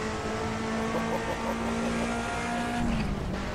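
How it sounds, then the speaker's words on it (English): Turbocharged car engine in the Assetto Corsa racing game on the Tokyo Shuto Expressway, a loud steady high engine drone with a whine held through, shifting slightly near the end. "do you hear the turbo? It's just like, this car is just an absolute beast."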